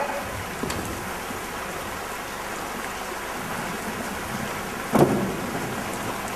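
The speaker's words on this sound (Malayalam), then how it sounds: "എന്തൊരു നശിച്ച മഴയാ." Steady rain hisses continuously, a dense even patter with one brief louder knock near the end.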